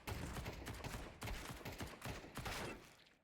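Rapid automatic rifle spray in the video game Counter-Strike, a dense run of loud, close shots in two sustained bursts with a short gap between them, tailing off at the end.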